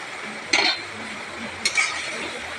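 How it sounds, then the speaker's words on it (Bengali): Fried eggs being stirred into fried spices in a pan for egg curry, two short scraping bursts of spatula against the pan over a steady faint sizzle. "ভেজে রাখা ডিমগুলো দিয়ে ভালো করে নাড়াচাড়া করে"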